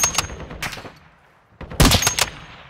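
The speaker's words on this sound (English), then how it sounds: "I'm being shot from behind." Bursts of video game gunfire crack out close and loud, two clusters of rapid shots separated by a short quiet gap, with no talking over them.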